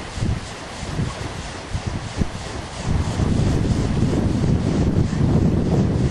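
Wind rushes across the microphone beside a spinning autogiro rotor on Long Island as it speeds up, a broad, gusty roar that swells louder and steadier in the second half.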